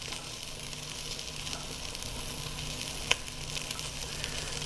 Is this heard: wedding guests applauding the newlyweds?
no